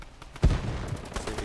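Single gunshot in a Fortnite tournament match, a sharp close crack followed by a few fainter distant pops.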